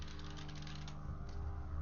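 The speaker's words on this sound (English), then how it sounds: "If you notice, I'm typing" Typing on a computer keyboard: faint, soft key clicks in a quick irregular patter over a steady low room hum, with no voices.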